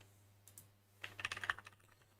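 A burst of quick keystrokes on a new computer keyboard, close and clicky, coming after a second of near silence and fading out within about a second.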